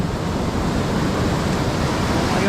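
Loud, continuous roar of surf in the Philippines, a broad rushing wash of big ocean waves close by with no pause.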